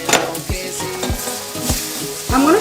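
Vegetables frying in oil in a pan, a steady close sizzle broken by repeated scrapes and stirs of a utensil against the pan, with no talking.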